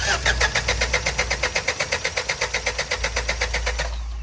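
An engine with faulty injectors is test-cranked but fails to catch, its starter churning in a steady, fast rhythmic whir for several seconds.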